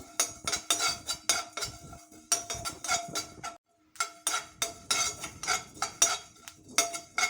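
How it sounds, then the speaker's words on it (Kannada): A spoon stirs cumin and black pepper dry-roasting in a pan without oil, giving quick, rhythmic metallic scrapes and clinks up close with a short pause midway. "ಜೀರಿಗೆ 1 ಸ್ಪೂನಷ್ಟು, ಕಾಳುಮೆಣಸು ಒಂದು ಅರ್ಧ ಸ್ಪೂನ್ ಹಾಕಿ ಹುರ್ಕೊಳ್ತೀನಿ. ಎಣ್ಣೆ ಹಾಕೋದು ಬೇಡ, ಡ್ರೈ ಆಗಿ ಹುರ್ಕೊಳ್ಬೇಕು"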